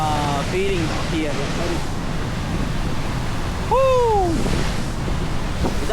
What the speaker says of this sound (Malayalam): അവിടെ നിന്നൊരു കാറ്റും വെള്ളം ഇങ്ങനെ അടിച്ചടിച്ച് വരുന്നുണ്ട്